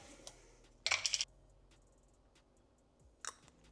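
Mixed nuts tumble from a jar into a bowl in a short clattering burst of hard little impacts, followed later by a brief second rattle, in a quiet kitchen.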